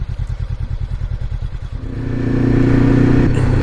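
A motorcycle rides a winding country road in the Basque Country between Isturitz and La Bastide-Clairence, its engine first thumping in a steady rhythmic beat, then swelling into a louder, sustained acceleration drone.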